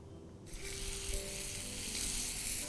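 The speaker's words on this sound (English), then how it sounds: "we'll place this in a pan of hot oil" Seasoned fish laid bone side down into a pan of hot oil bursts into a loud, steady sizzle that swells and holds close up.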